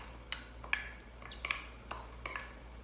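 A metal utensil scrapes and clinks against a pan as a sauce is mixed, with several light, close taps spaced unevenly over a quiet background.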